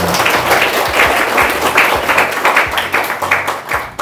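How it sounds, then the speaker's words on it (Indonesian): An audience at a formal organisational gathering gives lively applause, many hands clapping at once, loud and sustained for a few seconds before starting to thin out. "Boleh beri tepuk tangan yang meriah itu."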